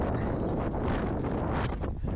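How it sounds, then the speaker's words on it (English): Wind buffets the microphone up on a rooftop, a steady loud rumbling roar with gusty rustling that fills the whole moment and carries no voices. "A little windy up here."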